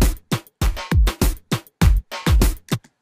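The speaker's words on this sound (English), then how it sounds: "it just sounds like there's two different drum beats on top of each other" A Dr. Octo-Rex drum loop is stacked on top of programmed drums, making a loud, dense, cluttered beat of heavy thumping hits over about three seconds.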